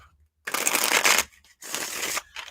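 Two bursts of playing cards being riffled and shuffled close up, each lasting under a second with a short pause between.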